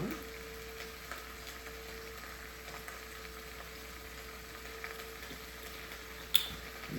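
Pompano fish pan-sears in oil, giving a soft, steady sizzle and crackle at a low level, with one brief sharp tick near the end and no speech.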